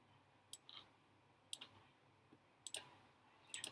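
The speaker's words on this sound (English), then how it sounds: "let's install it by double clicking on it" Computer mouse on a Mac being double-clicked, giving several crisp, quiet click pairs spaced about a second apart in an otherwise silent room.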